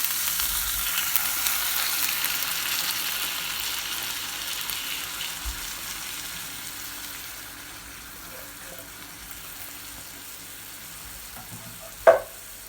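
Tomatoes hitting a hot, well-seasoned cast iron skillet over a gas flame give a steady, broad sizzle that slowly eases off, with a brief sharp clatter near the end.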